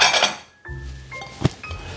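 Glass bowls clink sharply as they are set down one after another on a kitchen counter, producing ringing knocks and a brief rattle, close and alone.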